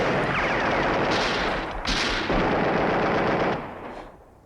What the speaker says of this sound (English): Rifles, machine guns, grenades, all take their toll on the colony.